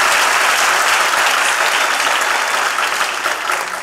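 Steady, dense applause from a studio audience for a music arranger, sustained evenly for the whole stretch without voices on top, tapering very slightly at the end.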